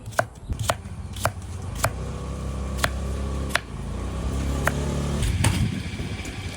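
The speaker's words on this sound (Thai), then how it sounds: "หั่นฟักก่อน ชิ้นตามชอบนะคะ" Sharp knife strikes chop winter melon on a cutting board, about a dozen distinct thuds spaced irregularly over a low background hum, close and clear with no talking.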